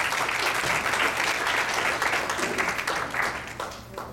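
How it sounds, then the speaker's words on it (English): A crowd at a 60th birthday celebration applauds with dense, steady clapping that fades out toward the end. "A round of applause just for the two."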